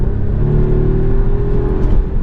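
A 2025 Volvo V60 T8 E AWD Polestar plug-in hybrid wagon pulls hard under acceleration, its engine giving a loud, steady, rising hum with a low rumble heard from inside the cabin.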